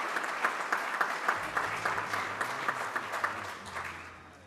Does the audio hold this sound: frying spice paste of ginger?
no